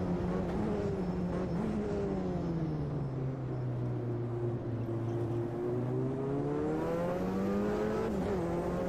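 The VRC Auriel 90 GTO race car engine in the Automobilista 2 sim racing game drones steadily and loudly from close up, its pitch dipping slowly and climbing again as the car eases off and accelerates, with one brief gearshift blip.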